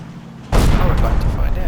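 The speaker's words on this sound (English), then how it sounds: "Whoa, where did those grenades come from?" Grenade explosions in the World War II game Combat Mission Normandy: a sudden loud blast erupts and rolls into sustained rumbling, crackling battle noise that continues to the end.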